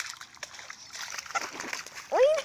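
Water splashing in a shallow puddle beside a pet goose, a brief loud slosh near the end following softer wet movement and a voice talking.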